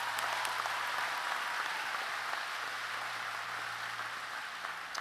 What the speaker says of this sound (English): Let's give McCain a round of applause.